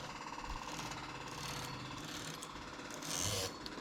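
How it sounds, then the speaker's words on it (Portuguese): Domestic knitting machine making lace, its carriage sliding across the needle bed with steady mechanical clacking and ratcheting, quiet and close, with a brief louder scrape near the end. "Puxo o pente e ele traz as agulhas para cima."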